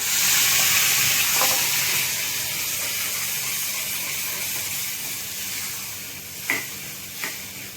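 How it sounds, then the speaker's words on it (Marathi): Boiled dal poured into a hot tempering hisses with a loud, steady sizzle that fades slowly over several seconds, with a couple of faint clinks near the end. "आपण ही डाळ फोडणीला देणार आहोत।"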